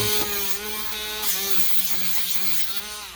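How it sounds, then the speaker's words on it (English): A small rotary sanding disc grinds at a Matchbox regular-wheel Ford Galaxie police car, a steady close whirring with a high motor whine that holds level throughout with no pauses. "take my little sanding disc"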